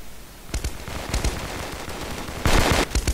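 Rapid gunfire from a Kuboom mini Counter-Strike style shooter game, with sharp bursts near 0.5 s, 1.2 s and a longer loud volley around 2.5 s, loud and close with no talk.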